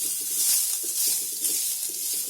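Masala roasts in a pan with a soft, continuous sizzle, broken by faint scraping and stirring strokes at an even pace.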